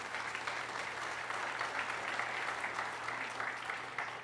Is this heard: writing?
no